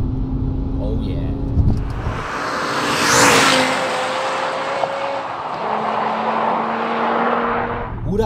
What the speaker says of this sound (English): Mighty V10 engine under the hood is constantly communicating with me